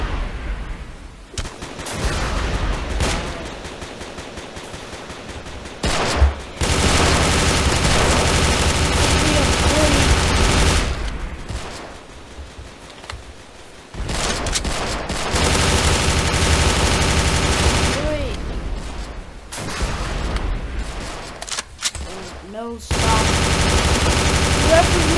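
Heavy guns fire in a WW2 war simulator video game, long stretches of dense, rapid automatic gunfire and booming shots separated by a few brief lulls, loud and close throughout.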